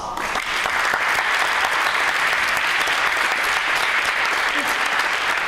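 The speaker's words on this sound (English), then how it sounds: "So please, support them with a very warm applause." Warm, sustained applause from a room full of people at a business case contest, greeting a competing team. It is dense and even throughout, with a faint voice underneath.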